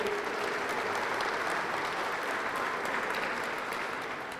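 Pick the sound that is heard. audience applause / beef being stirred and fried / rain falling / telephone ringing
audience applause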